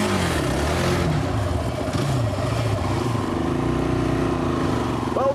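A Honda quad bike with a single-cylinder 450cc engine accelerates hard, its loud, steady engine roar filling the whole stretch with rising revs, close to the listener.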